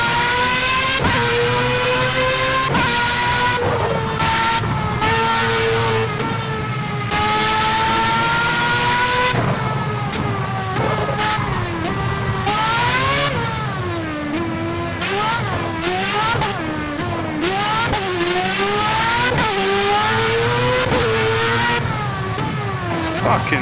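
Formula 1 cars race in the rain in the video game Project Cars: a loud, continuous high-revving engine whine climbs and drops through repeated gear shifts, sweeping in pitch throughout.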